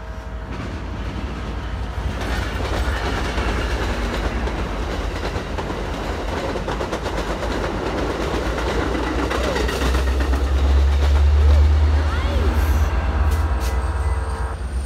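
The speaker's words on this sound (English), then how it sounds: "here comes the train." An Amtrak passenger train passes nearby, its rumble and rail clatter building from a low approach to a loud, heavy pass near the end, with a steady rolling roar throughout.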